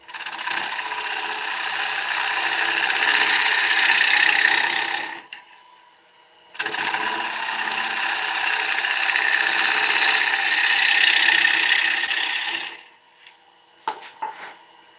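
Dieback ash spinning on a wood lathe, two long stretches of steady rushing cutting noise, each several seconds, broken by a short quiet gap, then a few faint knocks.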